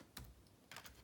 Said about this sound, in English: if I keep on typing